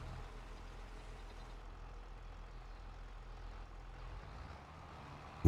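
Tractor engine idling steadily while bales are unloaded in a farming video game, a continuous low rumble that holds evenly, with a brief loud bump at the very end.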